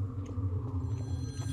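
Telephone ringing on a Garry's Mod horror map, a faint, repeating ring heard over a low steady hum and background rumble.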